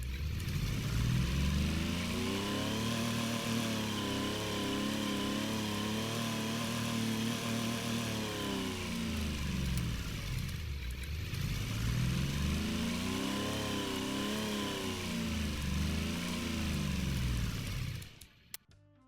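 A small 3-cylinder Soviet-style car engine from the Automation racing game revs up and down in two long sweeping cycles, a steady buzzy drone rising in pitch and falling back, then cutting off abruptly at the end.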